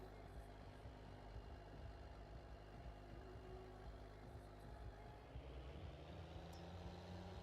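A Fendt Favorit 500 tractor idles in a farming game, a faint, steady low engine hum that holds evenly throughout with no change in pitch.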